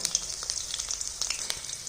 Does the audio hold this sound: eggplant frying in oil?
yes